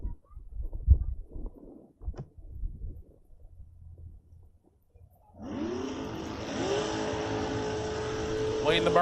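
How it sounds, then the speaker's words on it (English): Drag race cars doing burnouts at a bracket racing event: a loud, sustained roaring engine with rising revs sets in about halfway, after a stretch of muffled announcer talk and crowd noise. "Leading the burnouts."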